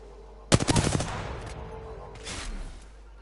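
Rapid gunfire bursts from Apex Legends gameplay, a dense loud volley of automatic shots at the start that tails off into scattered, quieter firing and game effects.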